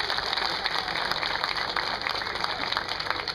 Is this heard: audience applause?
yes